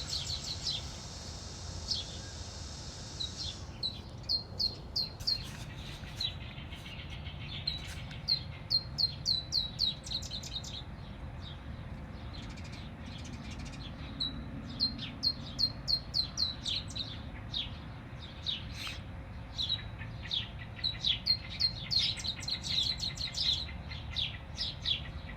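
Birds chirp and tweet steadily at sunrise in Arizona, with many short high calls overlapping from different directions against a quiet outdoor background.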